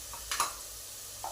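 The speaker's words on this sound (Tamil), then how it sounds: "இஞ்சி பூண்டு பேஸ்ட் இது கூட நான் மிக்ஸ் பண்ணிக்கிறேன்." Ginger garlic paste fries in a pan, a faint sizzle broken by a couple of brief stirring scrapes, quiet and near, with no talking.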